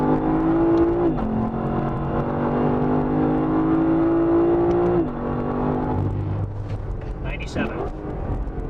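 Lexus LC500 accelerating hard downhill on the Atlanta Motorsports Park race track, heard from inside the cabin: a steady loud engine drone climbing in pitch, a gearshift dip around a second in and another near five seconds, with brief background talk.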